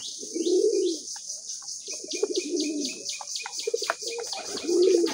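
A male pigeon coos in low, throaty rolling bursts, three or four calls close up, with faint chirps from other birds behind.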